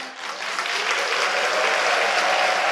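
Applause from a church congregation at an Easter Sunday service, a dense, steady wash of many hands clapping throughout, loud and close.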